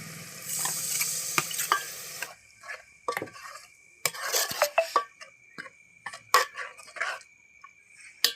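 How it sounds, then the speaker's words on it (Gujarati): Tomatoes sizzle in a hot pan for paneer bhurji, with a loud burst of frying at first that quickly fades, followed by scattered close clinks and scrapes of a spoon stirring against the pan. "હવે આપણે એમાં ટમેટા નાખી દઉં."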